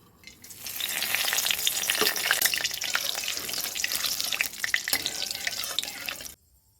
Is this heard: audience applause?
no